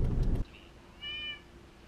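A short burst of low rumbling noise gives way to a single clear, high cat meow, quiet and close, in an otherwise still room.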